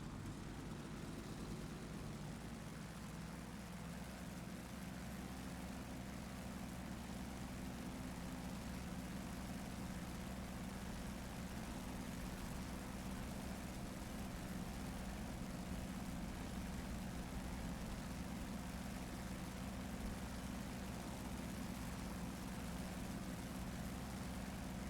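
A simulated F4U Corsair's radial engine and propeller roar steadily through a World War II takeoff run, a loud, continuous low drone that holds without a break, with no talking.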